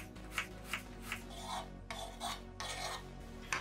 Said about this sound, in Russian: Лук нарезаю полукольцами.